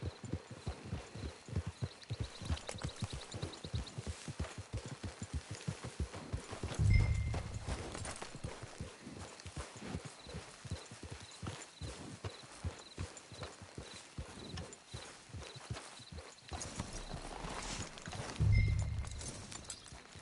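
Horse hooves clip-clop at a steady walking rhythm in Red Dead Redemption 2, close and continuous, with a couple of louder snorting bursts from the horse along the way.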